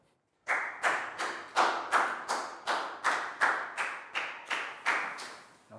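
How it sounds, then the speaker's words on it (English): A classroom of schoolchildren claps together in a round of applause, a dense burst of many hands that pulses in steady, roughly half-second surges of loud, near clapping, with no talking. "Big round of applause for Prau"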